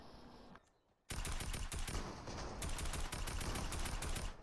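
Dense Fortnite gunfire, a near-continuous loud burst of rapid shots after a brief quiet pause, with the rattling fire carrying on to the end.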